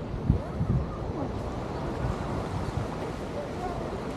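Ocean surf washing along Waikiki Beach at low tide, a steady broadband rush mixed with heavy wind buffeting the microphone, with no clear individual wave breaks standing out.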